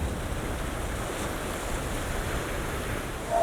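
Winter ocean surf washes onto a rocky shore, a steady, continuous roar of waves mixed with gusting wind buffeting the microphone, swelling slightly louder at the very end, with no voices.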